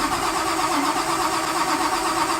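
A 1955 Chevy engine with its blower re-installed cranks steadily on a start attempt, a continuous, even churning drone that never catches and runs at a constant level throughout, with no talking.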